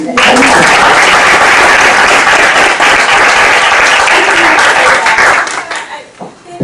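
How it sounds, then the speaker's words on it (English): Loud, dense applause and cheering from the audience at a school board meeting, sustained for several seconds before tapering off, with a voice briefly audible near the end. "let's cheer her on"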